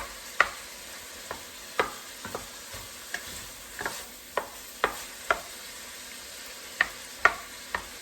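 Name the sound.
vegetables cooking in a pan on the stove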